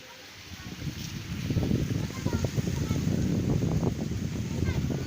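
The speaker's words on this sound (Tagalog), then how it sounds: "sobrang lakas ng hangin" Strong wind roars and buffets the microphone in a steady, heavy low rumble that swells and gusts without pause.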